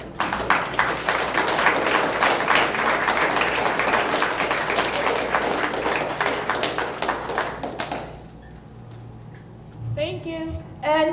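An audience at a library poetry open mic night applauding the poets, loud sustained clapping that stops abruptly, followed by a voice speaking.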